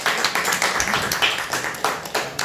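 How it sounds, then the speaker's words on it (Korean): A church congregation claps together in a loud, dense burst of applause that holds steady for a couple of seconds, close and filling the room. "우리 크게 우리 박수하겠습니다."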